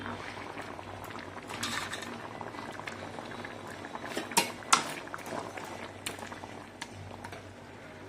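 Fish curry with taro bubbles in a pot, a continuous close simmering burble with scattered pops and small splashes, steady throughout with light clinks and a voice speaking now and then.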